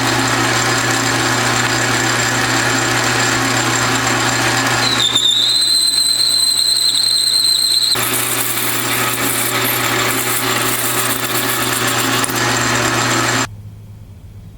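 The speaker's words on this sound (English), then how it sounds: "So the ordeal of running the lathe is over." A metal lathe runs under power feed while turning a spacer, giving a steady, close machine hum with a high whine from about five to eight seconds, before the noise drops away near the end.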